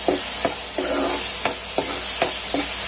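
Onion and garlic paste frying in a pan, stirred in a steady rhythm with repeated scraping strokes over a continuous sizzle, close and fairly loud, with no talking.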